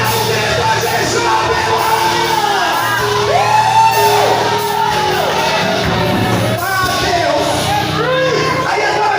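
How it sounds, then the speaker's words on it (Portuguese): A church congregation shouts out to Jesus, a loud, sustained wall of overlapping cries, whoops and yells from many voices that fills the room continuously. "Dá um grito a Jesus"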